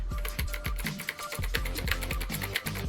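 Keys on a TBI-Pro X107 107-key mechanical keyboard are typed in a quick, uneven run of close, crisp clicks and clacks at a fairly quiet level.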